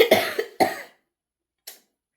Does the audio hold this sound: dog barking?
no